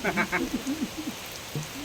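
Heavy rain pours down on a farm at dusk as cattle are driven into their pen, a steady wash of rainfall running beneath several people talking nearby.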